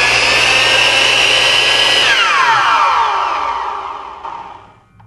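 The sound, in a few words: 4,000 RPM miter saw running on PowerBright PW2300 inverter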